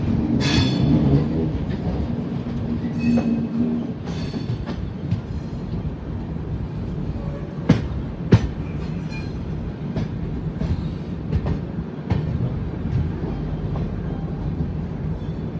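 Train rolling toward Shoranur railway station, heard from inside with a steady rumbling roar, rhythmic wheel clatter and a few sharp clicks, continuous and moderately loud.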